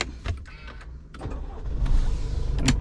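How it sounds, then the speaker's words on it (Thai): An Isuzu vehicle is started by push button with the brake pressed: a few short mechanical clicks and whirs, then the engine catches and settles into a steady, close-up running hum, with no one speaking. "เหยียบเบรกแล้วกดสตาร์ท"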